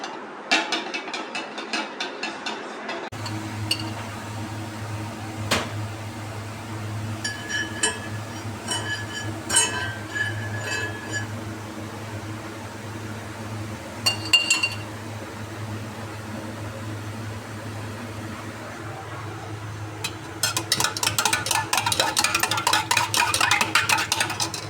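A spoon stirs pancake batter with milk in a glass bowl, sending out scattered light clinks against the glass over a steady low hum, then a fast run of rapid, repeated tapping near the end.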